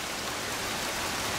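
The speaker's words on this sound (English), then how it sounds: "It's still raining though." Rain falls steadily outdoors, a dense, even hiss that stays constant throughout with no voices.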